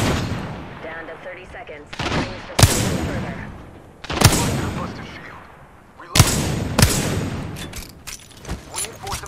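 Weapons firing in the Apex Legends video game, with repeated loud sharp shots and booming bursts spaced every couple of seconds, echoing off between volleys, while a voice speaks over the action.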